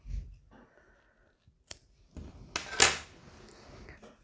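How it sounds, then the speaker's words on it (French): Scissors snip knitting yarn during hand-knitting of baby slippers, a few quiet close clicks and one crisp cut in a hushed indoor setting. "Je coupe mon fil."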